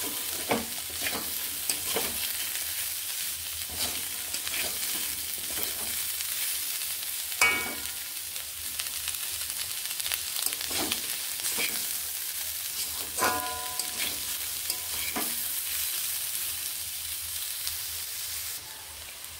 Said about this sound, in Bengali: এবার আলু পেঁয়াজ আমি একসঙ্গে ভাজবো।